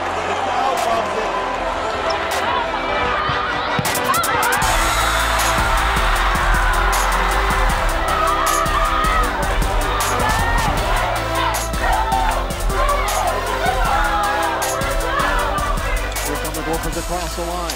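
A hockey arena crowd roars for a Minnesota Gophers win, a dense loud cheering wash with whoops and thumps that runs continuously while an announcer talks over it.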